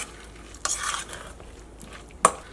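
A spoon scrapes through a bowl of grated egg, carrot and potato mixed for a bread-and-egg tea snack, with a short stirring burst early on and one sharp clink near the end, close and without talk.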